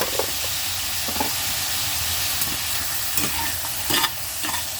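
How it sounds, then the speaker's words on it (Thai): Meatballs and mixed vegetables stir-fried in a hot pan, with a steady loud sizzle and hiss and occasional scrapes and clinks of the spatula as the food is tossed, no voices. "ผัดคลุกเขา คลุกเขาให้เขาเข้ากันให้หอมค่ะ"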